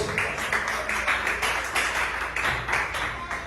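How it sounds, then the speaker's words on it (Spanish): A church congregation claps for God during a sermon, a dense, steady round of applause from many hands, loud and continuous, pulsing slightly through the whole stretch with no talk over it. "Regálale un aplauso al Dios de los cielos"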